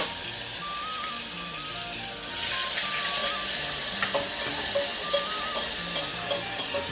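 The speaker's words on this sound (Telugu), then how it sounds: "ఇది బాగా వేగనివ్వండి. దీనివల్ల మనకు గ్రేవీ బాగా వస్తుందండి." Ginger garlic paste with ground onion and green chilli fries for mutton gravy, a soft hiss that jumps to a loud, bright sizzle as the mixture hits the pan, with stirring scrapes near and steady.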